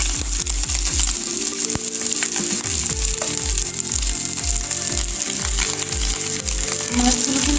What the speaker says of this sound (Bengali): মাছগুলো কিন্তু ভাজা হয়ে গেছে।